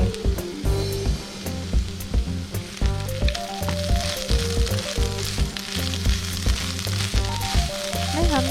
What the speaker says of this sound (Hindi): और थोड़ा सा पेपर पाउडर और हर्ब्स डाल लेंगे और स्प्रिंग अनियन डाल के उसको अच्छे से मिक्स कर लेंगे।